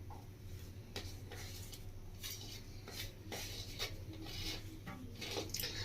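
Boiled potato being mashed and mixed by hand with chopped green chilli and coriander leaves for aloo paratha filling, heard as steady soft squelching and rubbing with light scrapes against a bowl, fairly quiet and continuous.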